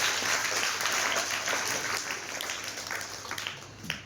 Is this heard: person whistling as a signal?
no